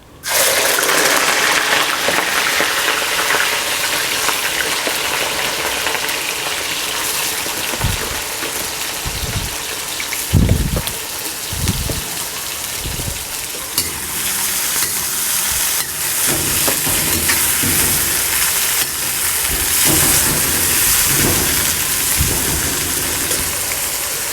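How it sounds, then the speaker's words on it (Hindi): Loud, continuous sizzling of bitter gourd frying in hot oil, with repeated clinks and scrapes of a spoon stirring the pan. "तो करेलों को हमने फ्राई करने हैं"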